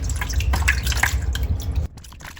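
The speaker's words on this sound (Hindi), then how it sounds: "अब यहाँ पे मैं आपको हाथ धो के दिखाती हूँ।" Tap water runs and splashes steadily as hands are washed under it, close and fairly loud, then cuts off abruptly near the end, leaving a faint quiet room.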